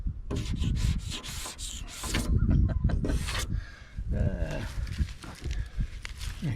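Sanding by hand over glazing putty and peeling paint on a Chevy van body, a steady close rasping rub in repeated strokes with brief pauses, no talk.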